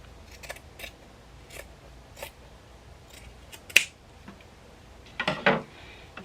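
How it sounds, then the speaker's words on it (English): Scissors snip away the excess fabric at the bottom of a sewn fashion face mask: a few sparse, sharp close cuts spread apart, then a quick cluster of louder snips toward the end, with no talking. "you're just going to trim away the excess fabric at the bottom."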